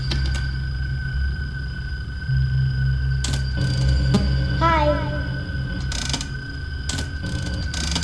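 Ventilation rebooting in Five Nights at Freddy's 3, a whirring mechanical, ratchet-like clatter with a rising chirp midway, over a steady electronic hum and low drone, fairly loud with no talk.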